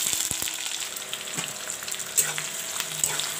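Chopped onions hit hot oil with bay leaves in a pan for a chicken curry, giving a steady close sizzling hiss with a few soft clicks and pops throughout.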